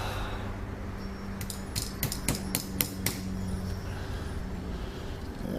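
A small hammer taps an axle into a Trackmaster model train wheel held in a vise, a quick run of about eight sharp metallic knocks in the middle, with quiet room noise before and after.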